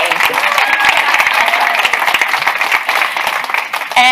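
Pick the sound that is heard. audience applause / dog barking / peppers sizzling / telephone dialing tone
audience applause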